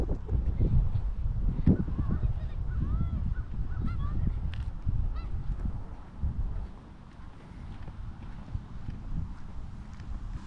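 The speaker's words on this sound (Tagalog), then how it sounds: "Dito isang grupo ng mga gansa." Geese honk in a park by Martyrs' Shrine near Blue Mountain, Canada, several calls scattered over steady outdoor wind rumble; the honks are moderate and fairly close.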